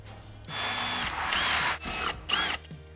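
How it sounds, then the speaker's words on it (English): A power drill bores holes in a steel rear bar with a wheel carrier, heard in two or three separate bursts of whining, grinding cutting, each starting and stopping abruptly, close up. "Fold the bottom section in, drill 2 holes and mount it with a nut and bolt"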